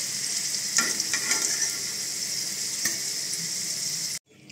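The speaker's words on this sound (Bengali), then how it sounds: "আমি লাল লাল করে আলুটা ভেজে তুলে নেব।" Potato pieces deep-frying in hot oil, a steady close sizzle throughout with a few brief utensil scrapes, cutting off abruptly near the end.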